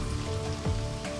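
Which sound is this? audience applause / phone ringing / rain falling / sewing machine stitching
rain falling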